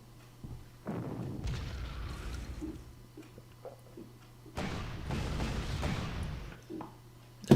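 Heavy artillery fire in a video game during a Sevastopol assault on Ultimate difficulty, with deep rumbling booms in two long sustained barrages, loud and close, with a sharper blast at the very end.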